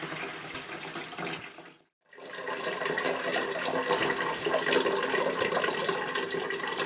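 Hot water runs from a BIBO Classic water boiler into a sink as a steady, close splashing stream that cuts out for a moment and then resumes, continuing without talk.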